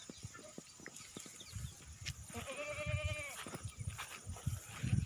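Goats for sale, mother goats with their kids, gather on a farm, with a long wavering bleat rising above scattered hoof knocks and shuffling close by, under a faint background hum.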